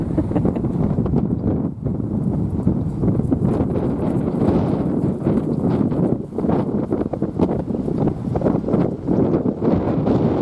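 Strong, gusty wind buffeting the microphone in a constant heavy roar that surges and dips, with no voices.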